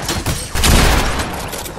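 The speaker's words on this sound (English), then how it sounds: "where are these people shooting from?" Gunfire in the video game Fortnite, a dense burst of loud overlapping shots and booms that swells mid-clip and then trails into scattered reports.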